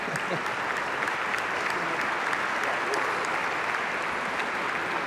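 At a champions' tribute presentation, the audience claps for award recipients as they appear, a steady wash of many hands applauding for several seconds, with a few sharper claps standing out.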